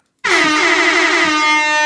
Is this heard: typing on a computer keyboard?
no